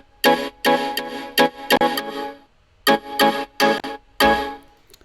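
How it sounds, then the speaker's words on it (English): A Shiny Bell 2 synth preset from the Nexus Christmas 2017 expansion, with its layers removed, plays a series of bright bell-like chord stabs, separated by short gaps, with a brief pause midway through. "It's Shiny Bell 2, and these layers removed,"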